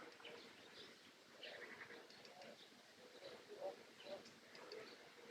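Birds sing outdoors on a calm morning with a light breeze, faint scattered chirps and calls against a soft background, with a cuckoo also mentioned nearby.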